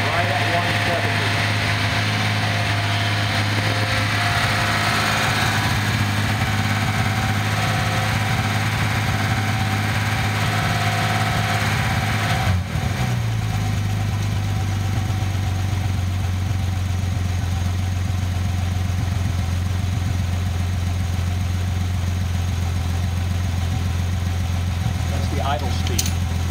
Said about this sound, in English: We got a nice 750 RPM idle.